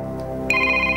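A phone rings with an electronic ringtone, a steady tonal melody that brightens partway through, heard close and loud without talking.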